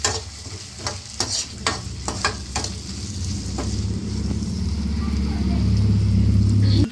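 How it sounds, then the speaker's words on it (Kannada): Soy sauce frying for chilli chicken, loud sizzle under repeated sharp spatula scrapes and taps early on, then a rising steady hiss joined by a low rumbling hum near the end. "ಸೋಯಾ ಸಾಸ್ ಸ್ವಲ್ಪ ಫ್ರೈ ಮಾಡಿಕೊಂಡು"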